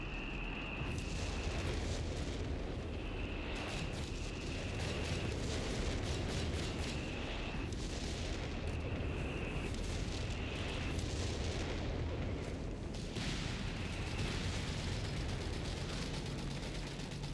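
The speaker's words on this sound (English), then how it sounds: "Artillery hitting the 17 pounder." Artillery shells hit a 17 pounder anti-tank gun in Company of Heroes 3, a sustained barrage of dense booms and rumbling impacts under a continuous din of battle with recurring high tones.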